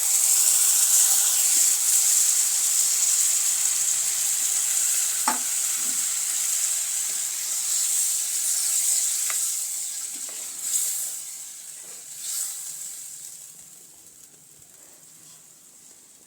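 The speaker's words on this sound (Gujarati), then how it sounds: "હવે થોડી વાર માટે આપણે આ શાકને થવા દઈશું" Vegetable curry simmering in a pan after a glass of buttermilk is added, giving a steady close bubbling sizzle and hiss with occasional spoon scrapes and stirring clicks, fading quieter toward the end.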